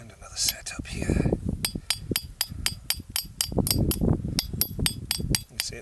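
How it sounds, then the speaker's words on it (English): Hammer strokes on a copper bracelet at a camp ring out as a fast, regular series of bright metallic taps, heard up close while someone talks over them. "You see it bending, taking on a weird curve as it bends towards where you hammer it."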